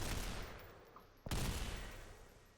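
Anti-material rifle firing in the video game SYNTHETIK 2, a single sharp shot cracking out midway through a quiet, noisy background and followed by a rumbling decay.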